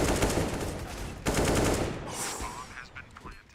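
Rapid bursts of automatic rifle fire in a Counter-Strike esports match, loud dense volleys that ease off and thin out toward the end, with faint commentator talk underneath.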